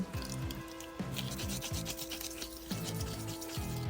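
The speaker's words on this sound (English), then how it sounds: "let's mix up another batch of epoxy clay" Epoxy clay being kneaded and mixed by hand, a steady close rubbing and rasping texture with repeated squeezing strokes over a constant low background hum, no voices.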